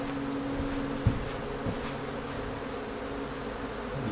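Honey bees drone steadily at an open hive while a beekeeper splits the colony, making a continuous close buzz with a couple of soft knocks from the frames and no speech.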